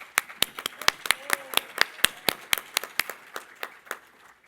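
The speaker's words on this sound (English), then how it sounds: "You can clap for that." A short run of hand claps from an audience at a community award celebration, about eighteen sharp claps in an even rhythm that fade slightly near the end, like a small group clapping together.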